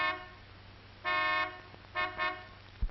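Car horns honk on a road in the 1930s: a long toot, a short pause, then two quick blasts, over a faint low rumble of traffic.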